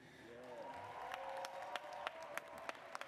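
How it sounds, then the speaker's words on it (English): An audience at a university commencement ceremony applauds musicians with a steady wash of clapping, some sharper individual claps standing out near the front, and faint crowd murmur underneath. "how about another round of applause for all of our amazing musicians?"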